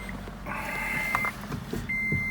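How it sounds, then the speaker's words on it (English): A steady electronic warning tone from a 2011 Toyota Prius with a dead battery sounds, pausing briefly then resuming, over a low background rumble. "You can hear that beeping noise."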